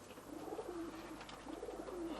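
Tippler pigeons cooing, soft low rolling coos repeated a few times, fairly faint against a hushed loft background with no talk.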